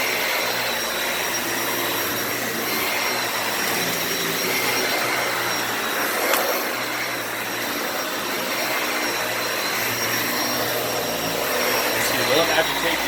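A Dyson Ball Animal 2 vacuum cleaner runs over thick fluffy carpet indoors, a steady loud whooshing motor roar that holds continuously throughout with only slight shifts as it is pushed.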